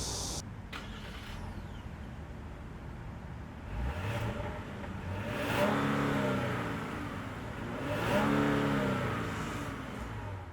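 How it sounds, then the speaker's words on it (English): A 2021 Genesis G80 3.5 twin-turbo sedan with dual exhaust idles steadily, then revs up sharply twice, each burst rising into a throaty roar before settling back; close and loud with no talking. "let me just put a B-roll showing you what the exhaust sounds like"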